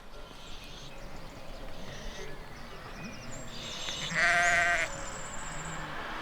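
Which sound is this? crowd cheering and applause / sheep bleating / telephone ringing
sheep bleating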